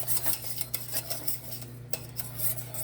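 A spoon stirring a German chocolate cake mixture in a pot on low heat, steady rapid scraping and clinking against the pot, close and continuous with a low hum underneath.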